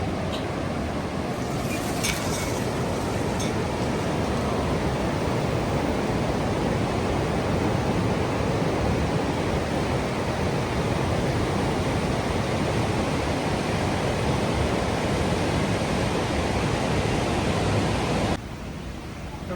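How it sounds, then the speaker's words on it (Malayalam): Ripple Waterfalls near Rajakkad: a dense, even roar of rushing, falling water, loud and unbroken throughout, with no voices. "ഇതാണ് ഈ വാട്ടർഫാൾസ്."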